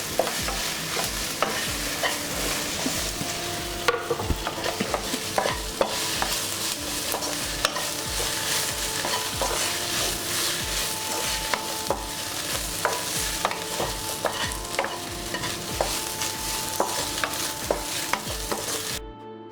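Cut idli pieces frying in a pan for masala idli, stirred continuously with a spoon: steady sizzling under repeated scraping and clinking strokes against the pan, close and clear, with no voices.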